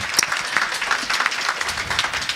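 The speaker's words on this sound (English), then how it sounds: "Round of applause for Dr." An audience at a grand launch event applauds a panelist: a dense, steady wash of many hands clapping together for a couple of seconds, fairly close and moderately loud, with no clear voices above it.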